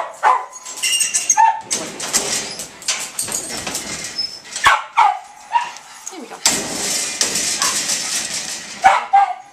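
A shelter dog being taken out of a kennel gives a few sharp barks amid clanking and movement, close by, while a person speaks briefly between the sounds.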